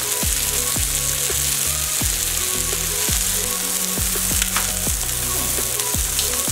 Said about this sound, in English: then the other side also I will fry nicely. So amra high flame etake fry korbo.